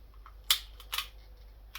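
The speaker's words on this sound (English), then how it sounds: "that now clicks down one, much like an old Henry lever action does" A Daisy 179 BB pistol's magazine follower clicks down a step, giving a few sharp, close mechanical clicks spaced over a couple of seconds against a quiet background.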